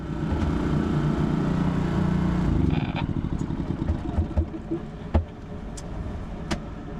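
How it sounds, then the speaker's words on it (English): A generator runs aboard an electric sailboat, a steady loud engine drone for about three seconds, then dropping off into quieter intermittent clatter and knocks. "now we have a schedule, so we got to run the generator"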